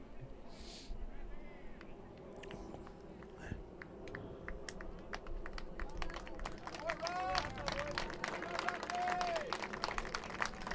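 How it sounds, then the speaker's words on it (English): A crowd at a rugby third-place game between BC and Ontario applauds as the hooker leaves the field. Scattered claps over a steady crowd murmur build after the first few seconds into a fuller round of clapping. "Warm round of applause."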